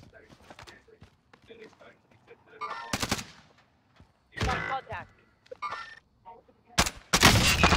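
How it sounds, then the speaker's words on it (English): Gunfire in Call of Duty: Warzone comes as scattered, fairly distant bursts and single shots, rising to louder volleys near the end, with some footstep-like clatter between them. "I'm getting shot at, I just don't know from where."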